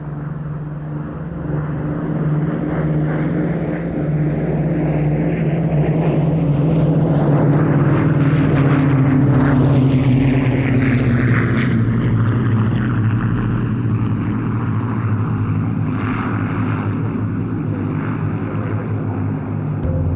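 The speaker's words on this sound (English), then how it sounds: "the Battle of Britain Memorial Flight have formed up once again for another pass" The Battle of Britain Memorial Flight's propeller warbirds drone past in formation at an airshow at Duxford, their engines swelling into a loud roar overhead and then fading slowly as they pull away.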